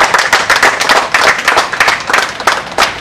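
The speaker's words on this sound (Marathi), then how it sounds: "जोरदार टाळ्या झाला पाहिजे." Loud applause with steady clapping from a crowd at a felicitation ceremony where a guest is honoured with a shawl and coconut, dense and continuous throughout.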